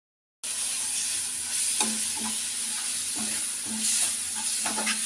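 Potato curry base with salt and turmeric sizzles steadily in a pan, a continuous close frying hiss broken by soft stirring scrapes, with no voices.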